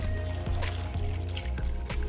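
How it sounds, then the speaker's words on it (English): About a cup of water is poured into a pot of Nigerian chicken stew, making a continuous close splashing trickle that runs steadily throughout. "So at this point, I'll be adding like a cup of water."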